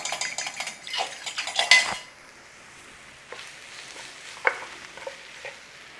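Flour cooking in a pan for a creamy sausage sauce: a burst of metal utensil clatter and scraping against the pan, then a quieter low sizzle with a couple of sharp clinks.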